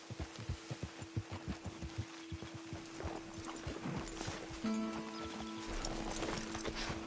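Horses walking in Red Dead Redemption 2, hooves clip-clopping in a steady uneven rhythm, fairly close, with a brief whinny-like tone partway through and no talk.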